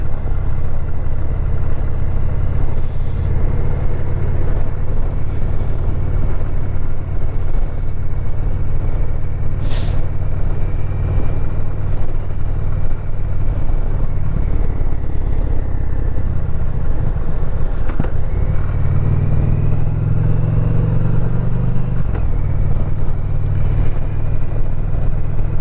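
Motorcycle riding on the road, a continuous loud engine drone and road rumble throughout, with a low rising growl near the end as the bike accelerates.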